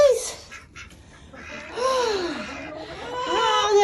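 Ducks kept alongside chickens on a cold, windy morning, giving a few nearby quacks and rasping calls in bursts, moderately loud, with some faint background sound.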